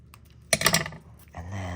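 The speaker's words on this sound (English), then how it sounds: "I'm going to come in here and do a wonky fussy cut." Scissors fussy-cut scrapbook paper up close in a few quick, crisp snips bunched together, with quiet rustling before and a softer sustained sound after.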